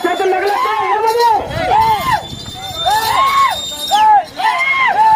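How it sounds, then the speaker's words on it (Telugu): A crowd at a village bull race in Rudravaram, Nandyal district, with the four-teeth bullock class competing: loud shouting, whooping calls and cheering in repeated rising bursts, with babble underneath. "వారి కేకల చప్పట్ల విద్యుల్లో"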